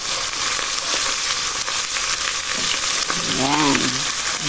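Galunggong fish frying in a pan with oil, giving a continuous bright sizzle and crackle, with a brief scrape of a utensil near the end.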